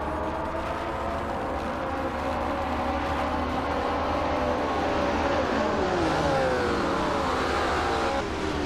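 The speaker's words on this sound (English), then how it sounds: "Dale Earnhardt is on pole, tearing up the track in a vintage 1968 Porsche 909 Bergspider" Race cars in a video game, led by a vintage 1968 Porsche 909 Bergspider, roar around a short track, with engines droning steadily and rising in pitch as they accelerate throughout.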